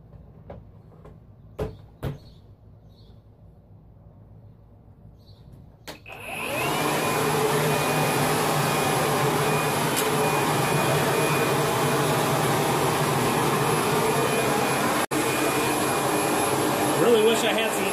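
A Sun Joe ION 40-volt cordless lithium battery blower vacuum mulcher whirs to life after a few soft clicks and handling sounds, then runs loud and steady with a high whine.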